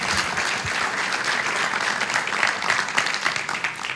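A church congregation applauds, a dense, steady wash of clapping from many hands that holds at an even level throughout, with no voices rising above it.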